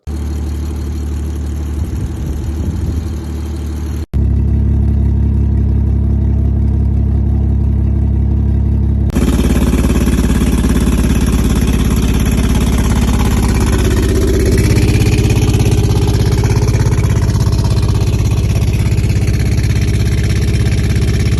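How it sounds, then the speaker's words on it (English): A damaged BMW 340i is loaded onto a tow truck, with a loud steady engine drone and idling rumble throughout, an abrupt shift early on, then a continuous mechanical hum and whine. "this is what he sent me of him loading the vehicle up on the tow truck"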